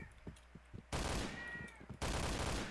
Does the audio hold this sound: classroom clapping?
no